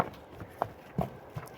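Hoofbeats from a young stallion and filly moving on firm ground, a few irregular thuds and clops spaced out over a quiet outdoor background.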